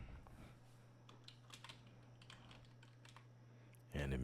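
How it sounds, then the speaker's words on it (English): Computer keyboard typing, a quiet run of light, irregular key clicks over a steady low hum, ending in a louder burst of noise. "I'm going to type in something different."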